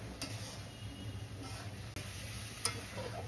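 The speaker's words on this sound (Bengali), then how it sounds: "এখন আমি এই যে এটা মশলার সাথে দিয়ে দিব, মাছটা দিয়ে তারপর ভালো করে কষাবো" Shol fish sizzles faintly in hot oil with spices while being stirred, a soft steady frying hiss broken by a few light scraping ticks.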